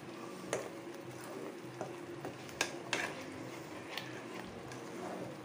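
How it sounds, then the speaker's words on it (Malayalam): Butter chicken gravy stirred in a pan after a cup of water is poured in, giving a soft continuous scraping and bubbling with a few sharp spoon clicks against the pan, close and moderately quiet, no talking. "നമുക്ക് ഒന്ന് ഇളക്കി കൊടുക്കാം."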